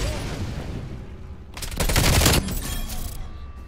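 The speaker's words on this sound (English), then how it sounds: "You're shooting that big fucking gun." Heavy gunfire from a big gun in Call of Duty: Black Ops Cold War, a dense roaring burst that swells loudly for about a second over steady game noise, then drops back to a busy rumble.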